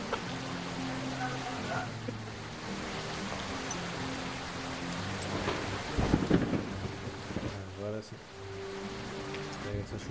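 Thunderstorm with steady rain and rumbling thunder in a Tormenta20 RPG game, the rain hissing under a low rolling rumble that swells partway through, while a voice speaks briefly.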